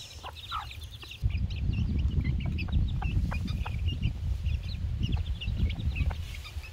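Chickens of a first backyard flock cluck and call intermittently while pecking at rice grains, a steady close scratching and pecking bustle beneath scattered sharp clucks, with no speech.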